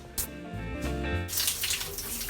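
Water runs steadily from a campsite shower, a close continuous spray and hiss that stays loud throughout, with a faint tonal hum underneath and no voices.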